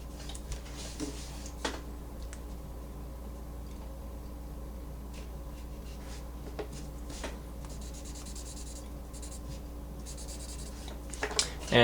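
A lead pencil draws on paper, a faint, continuous scratching and rubbing with occasional soft ticks and taps, close and quiet over a low steady hum.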